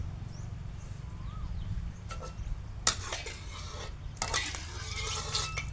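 Egg beaten with cha-om leaves fries in hot oil in a home kitchen as a Thai fried cha-om omelette, giving a steady low sizzle with a few sharp scrapes and clinks of a utensil against the pan.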